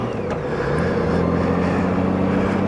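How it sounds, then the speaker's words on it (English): Steady, loud engine drone from a Honda Goldwing motorcycle while riding, a smooth continuous hum with a constant low rumble throughout. "One thing I do love about this bike is just the engine noise."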